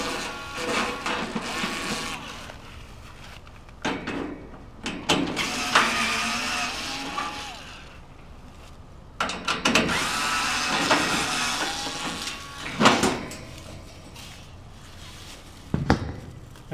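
Screws are worked out of an air conditioner unit's panel, making irregular close mechanical bursts, clicks and scrapes separated by quieter gaps.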